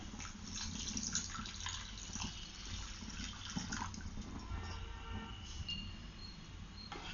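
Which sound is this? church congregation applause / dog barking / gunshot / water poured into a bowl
water poured into a bowl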